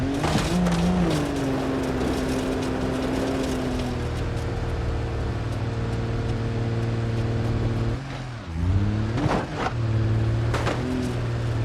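An off-road car engine in the video game BeamNG.drive revs hard and drones at steady pitch, then dips and surges again near the end, with tire and chassis noise beneath. No voices are heard.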